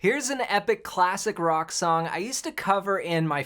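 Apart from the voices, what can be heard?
No everyday noises stand out.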